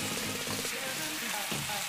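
Pork browning in a pan for chicken-pork adobo in oyster sauce, a steady, quiet sizzle and crackle of frying meat heard close up without talk.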